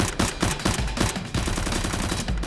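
Gunshot sound effects in a Nerf gun action film fire as rapid, evenly spaced bursts, loud and continuous like automatic gunfire, with no talking.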